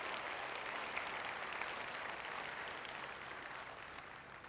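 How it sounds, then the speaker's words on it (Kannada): Sustained audience applause at a live comedy show fills the whole stretch, a dense, steady wash of clapping from a large crowd that tapers slightly toward the end. "ಅವರಿಗಾಗಿ ಒಂದು ಸಲ ಜೋರಾದ ಚಪ್ಪಾಳೆ ಇರಲಿ ಬಂಧುಗಳೇ."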